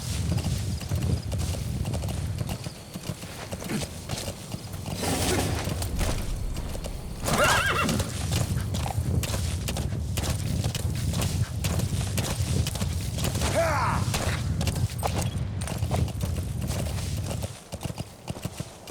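D-Horse, the horse companion in Metal Gear Solid V: The Phantom Pain, galloping with steady clip-clop hoofbeats and neighing loudly midway, close and continuous with game ambience underneath.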